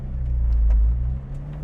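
A naturally aspirated 190-horsepower 2006 Lotus Elise engine hums at a steady low, close rumble, swelling slightly mid-way and then settling, with no voices over it.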